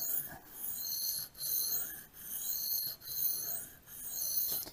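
A knife blade rasps across a Glasstone 500 grit whetstone in steady back-and-forth strokes, about five passes with brief pauses between them, close and fairly quiet with no talking.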